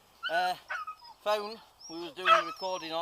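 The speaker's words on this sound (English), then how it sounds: "I will apologise for the dog barking" A dog barks and yips in short, close bursts at a steady, choppy rhythm across the whole moment, with a person talking over it.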